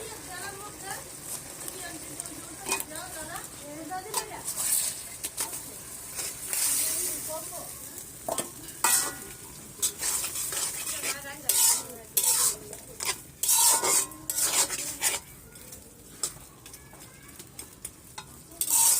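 Shrimp and small fish sizzle in hot oil in a pan while a spoon stirs and scrapes, with bursts of crackling frying, clinks of utensil against metal, and occasional talk in the background.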